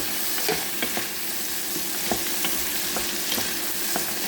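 Cashews sauté in a pan, the close sizzle of frying broken by a steady series of scraping stirs and taps, with no one speaking.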